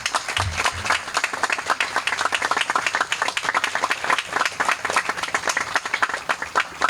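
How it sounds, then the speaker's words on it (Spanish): Sustained applause at a tribute ceremony for victims and survivors of the armed conflict in Colombia, with many distinct hand claps forming a lively, rhythmic patter at close range. "yo quiero un aplauso para ellos."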